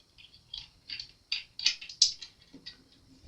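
Small metallic clicks and light ratcheting taps as a lock washer, washer and nut are fitted onto Ibanez hollow-body guitar hardware, a quiet, close, irregular series of brief ticks with no talking.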